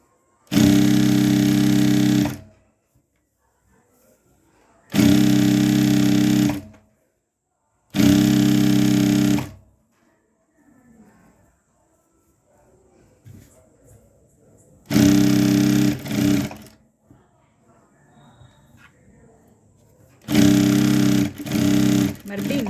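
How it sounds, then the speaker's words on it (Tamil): A sewing machine stitches cross pants in short loud bursts, five runs of fast steady whirring, each a second or two long, with quiet gaps of handling and faint rustle between them. "இன்னொரு தையல் போட்டுக்கோங்க ரெண்டாவது தையல் அது மேலே அப்போ தான் வந்து தையல் பிரிஞ்சு வராது"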